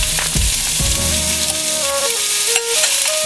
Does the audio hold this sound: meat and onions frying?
yes